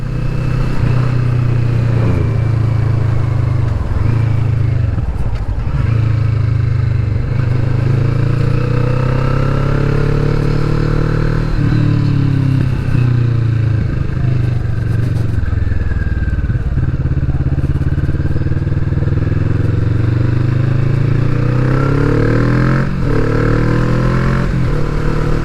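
A Kawasaki Vulcan S motorcycle rides over a loose, mucky country road surface, its engine droning loud and steady with shifting revs and underlying rumble and clatter throughout, with no voices.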